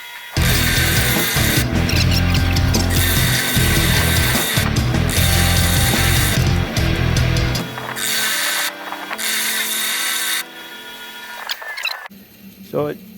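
A grinding wheel takes the taper off the rear axle splines of a 1955 Chevy Bel Air posi unit. It whines loud and harsh in long bursts, cuts out between passes, and ends in quieter scraping.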